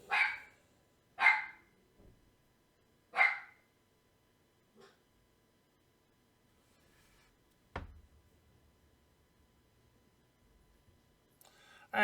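A dog barks three loud, spaced woofs up close, followed by a fainter yip and a sharp knock, then near silence.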